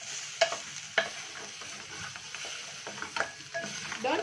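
Pork frying in a pan during a wet-fry, stirred over reduced heat: a low steady sizzle with a few sharp scraping clinks of the utensil against the pan, close by and alone.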